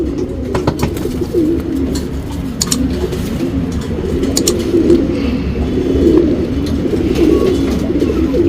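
Pigeons coo steadily and continuously in a low, throaty rolling murmur, several birds overlapping nearby with occasional faint chirps on top.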